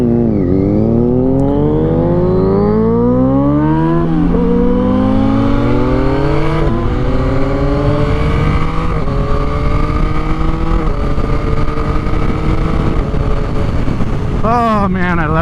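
A new 2022 Yamaha MT-09 with a quick shifter and auto blip accelerates through the gears, the engine note climbing and dropping repeatedly as each shift comes, with wind rush and a rider talking over it.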